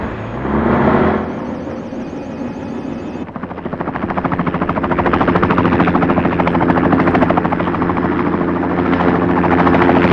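A helicopter flies in a movie action scene, its rotor thudding in a loud, continuous rapid chop that swells and steadies after a brief higher whine at the start, close and dominant with no talk.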